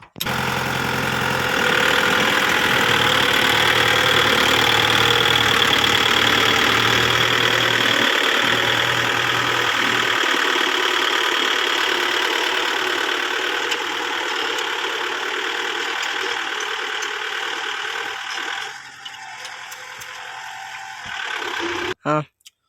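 A Kubota 55 hp tractor engine runs in extra third gear, a loud, steady diesel drone with a knocking undertone that holds for about twenty seconds, then drops briefly and surges again near the end.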